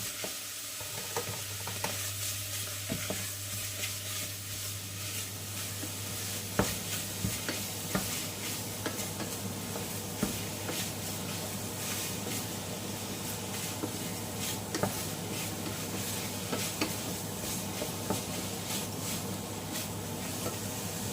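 Bacon and ham stir-fried in a pan for spaghetti carbonara, a steady close sizzle with frequent scraping and clicking of a utensil stirring the meat, alone without talking.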